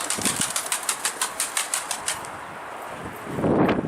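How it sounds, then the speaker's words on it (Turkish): Rapid, rhythmic flapping of Mardin pigeon wings, a dozen or so quick beats close by, fading out before a low rustle at the end. "Baktım kanat sesi geliyor."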